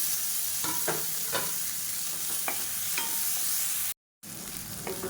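Onions and tomatoes sautéing in a pan for a vegetarian fish-style curry, a constant bright sizzle broken by several spatula scrapes and taps, followed by a brief dropout near the end.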